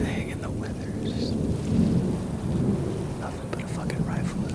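Thunder rumbles through a forest during a thunderstorm, a steady low roar that swells around the middle, with rain hissing and a few faint whispery sounds over it.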